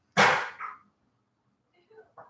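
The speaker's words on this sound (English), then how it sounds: "A little bark in there?" A dog gives one sharp, fairly close bark, followed by a small second yip, then after a pause a few soft whimpering or grumbling sounds, heard during an indoor livestream.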